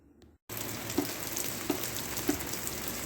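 After a brief quiet moment, heavy rain starts in as a constant broadband hiss, with a few louder drips tapping at regular intervals.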